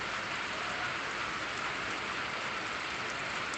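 Steady, dense first rain of the season pouring down on farm fields, a continuous even hiss with no pauses and no voices.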